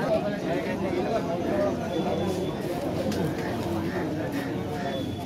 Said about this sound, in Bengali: গাঁদা পায়রা।